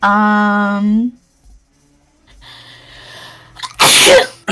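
A close, voiced sneeze with a rising tone, a brief quiet, then a second sharp, loud sneeze burst near the end.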